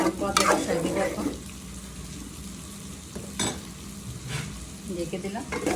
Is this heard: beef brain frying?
yes